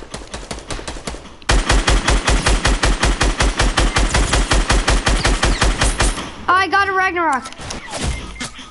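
Gunfire in a PS4 shooter game: a rapid, loud, evenly spaced burst of automatic shots lasting several seconds after a quiet start, then a brief high whistling effect and a thud, with players talking over it.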